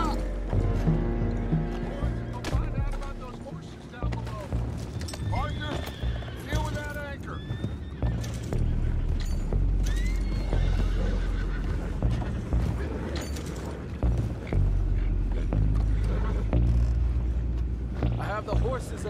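Horses neigh and clatter during an attack on a boat in Red Dead Redemption 2, with whinnies and hoofbeats mixed into shouting voices, splashing and busy game action throughout.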